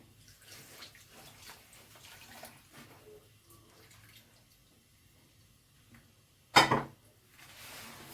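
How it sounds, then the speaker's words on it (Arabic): A cup and a quarter of milk poured into a basbousa mixture, a soft, steady liquid trickle close by, ending in one sharp, brief splash-clatter near the end. "وهنزل عليهم بالكوبايه وربع لبن"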